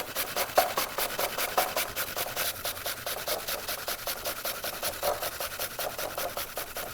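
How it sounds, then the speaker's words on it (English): Peeled apples are rubbed against a grater over a bowl, producing a steady run of rhythmic rasping strokes, about two per second, close and moderately quiet with no talking. "So we're gonna take this grater right over our bowl."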